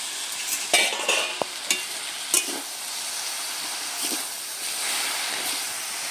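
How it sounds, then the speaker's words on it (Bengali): Leafy greens dry-fry in an uncovered pan without water, giving a steady, close hiss of sizzling. A few scraping stirs come early, then the sizzle settles into a constant wash of noise. "বেশ নেড়ে চেড়ে ভালোভাবে ভেজে নেব"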